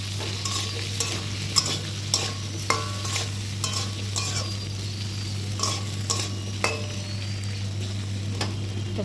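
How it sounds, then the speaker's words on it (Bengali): Potatoes sizzle in a pan with dried chilli, bay leaf, onion and whole cumin, a steady fry broken by regular spatula scrapes and light clinks against the pan over a low hum. "ভাজা হতে থাক"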